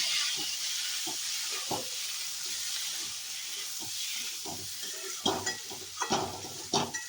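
Chilli, cumin and coriander powder being stirred in a pan, a low sizzling hiss broken by repeated close scraping and tapping of the spoon, growing busier toward the end.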